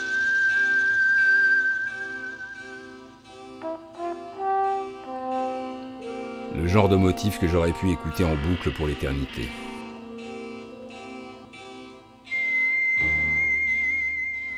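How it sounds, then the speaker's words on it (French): A whistled film melody plays with sustained, sliding notes, broken midway by someone speaking French over it, then the whistling returns alone. "sur cette musique sifflée"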